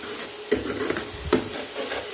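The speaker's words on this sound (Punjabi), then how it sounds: "ਇਹਨੇ ਮਸਾਲਾ ਭੁੱਜਦਾ" Turmeric and masala dry-roasting in a pan, with a soft continuous sizzle and two distinct scraping stirs of a spoon across the metal, close and fairly quiet.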